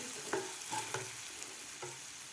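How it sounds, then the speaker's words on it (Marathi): Moong dal fries in oil in a pan with a steady, close sizzle, while a spoon stirs it and scrapes the pan a few times. "दोन मिनिट मी डाळ परतून घेतलेली आहे तेलामध्ये"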